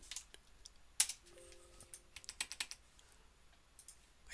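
Sharp, close computer mouse clicks while editing in Revit software, scattered and irregular with a burst of several quick clicks in the middle, alone in a quiet room.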